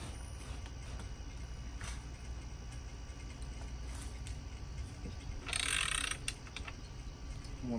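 A ratchet strap being cranked tight on a homemade farmer's carry rig, giving a faint mechanical clicking and creaking under steady background noise, with a brighter, louder burst of ratcheting near the end.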